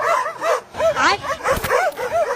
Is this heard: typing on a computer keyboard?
no